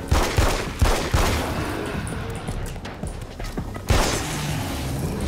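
Bombs and gunfire in Alan Wake's American Nightmare make sharp, heavy bursts that repeat in clusters, near and loud, with crackling rattle and a strong blast near the end.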